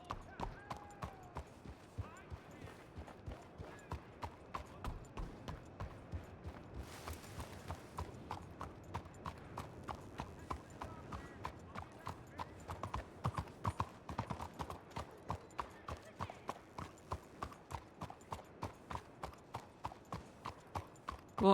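Steady clip-clop of a Brindle Thoroughbred's hooves in the WildRP game, a regular rhythmic trot of sharp clear hoofbeats running the whole time, with faint voices underneath.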